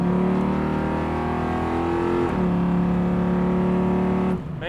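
A 1973 Chevrolet Camaro Z28 restomod accelerates hard, its engine note heard from inside climbing steadily in pitch, dropping briefly at a gear change, then rising again before easing off at the end.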